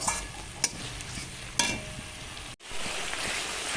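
Spice masala for a Kabuli chickpea ghugni being stir-fried in a pan, with a steady broadband sizzle, two sharp scraping clicks of a spatula, and a brief dropout before the frying hiss resumes.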